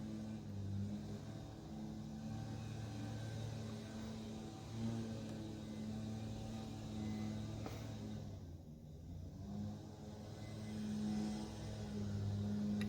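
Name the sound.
gas leaf blower blowing leaves off cars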